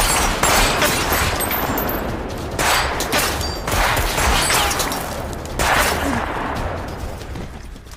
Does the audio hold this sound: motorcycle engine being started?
no